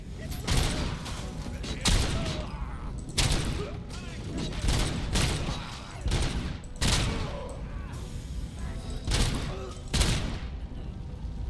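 Enemies fire on Robocop in a video game: repeated loud volleys of gunshots and heavy booms, close and dense, coming in uneven bursts throughout with mechanical thuds between them.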